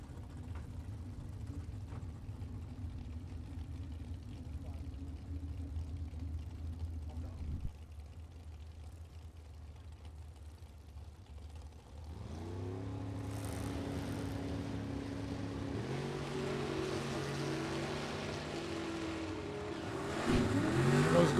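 A drag race pits a 1953 Studebaker against a 1970 Mustang: a steady engine drone gives way to louder revving engines with rising pitch sweeps, building into a strong roar toward the end.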